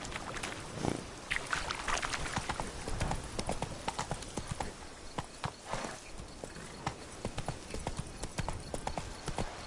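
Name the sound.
horse Roach galloping, hooves clip-clop, from video game The Witcher 3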